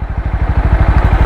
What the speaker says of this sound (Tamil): வாங்க ஸ்டார்ட் பண்ணியாச்சு, ஒரு ஸ்மூத்தரான ஸ்டார்ட்டு. பட் அந்த எக்ஸாஸ்ட் நோட்டு